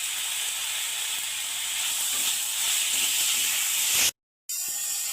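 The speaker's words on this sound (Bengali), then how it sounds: "এবার এর মধ্যে টমেটোটা দিয়ে দেব" Tomato dropped into a hot pan while cooking moong dal with rohu fish head, giving a steady, close sizzling hiss that cuts off abruptly near the end before resuming briefly.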